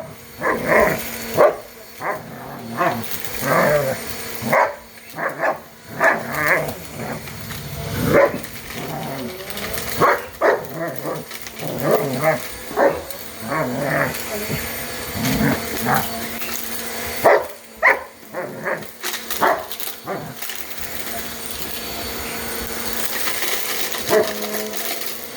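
A shepherd dog barks at a running vacuum cleaner, with repeated loud, sharp barks in irregular bursts over a steady mechanical drone.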